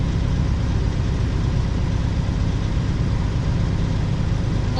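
Truck engine idling at a steady low rumble, loud and close, an even continuous drone with no change in pace and no voices.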